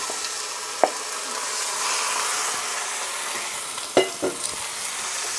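Chopped pork and garlic fry in a Dutch oven for a Filipino stew, a steady sizzle and hiss with a few sharp clanks and scrapes of stirring, and no one talks.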